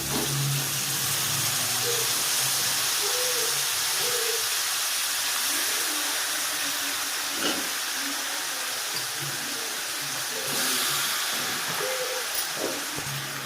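Cleaned chicken pieces sizzle in hot oil with coriander, mint and spices for a chicken gravy, a steady broadband hiss that runs unbroken throughout, with faint clinks and stirring knocks scattered over it and no talking.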